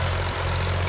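An Al-Ghazi tractor engine runs at a steady, close, loud idle, a low throbbing drone that holds constant throughout with no voices.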